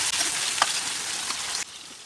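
Chopped tomatoes sauté for chana kuzhambu in a pan, giving a brisk, close frying hiss with a couple of soft stirring knocks before the sizzle drops away sharply near the end.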